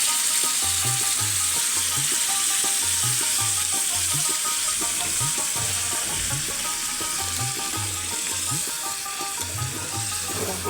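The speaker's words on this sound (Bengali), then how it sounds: "আর আমি চিকেনের মধ্যে জল ঢেলে দিচ্ছি" Water poured over browned chicken for a red curry sets off a loud, continuous sizzle in the pan, with a low, rhythmic hum pulsing steadily underneath.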